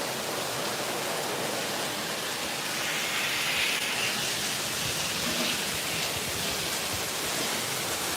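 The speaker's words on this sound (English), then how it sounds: "Yeah, it's raining in Las Vegas" Steady, heavy monsoon downpour on the Las Vegas Strip, a broad continuous wash of rain that swells slightly midway, with no talking.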